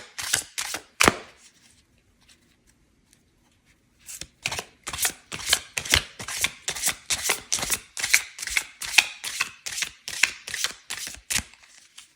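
Tarot cards are shuffled close up, a few riffles, a pause, then a long run of quick crisp flicks and slaps in a steady rhythm.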